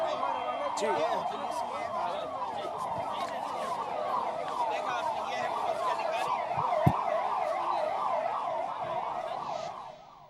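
Ambulance siren wailing in a fast repeating up-and-down cycle during a civil defence mock drill in Madhya Pradesh, loud and close and steady, with a voice talking over it and a sharp knock near the end.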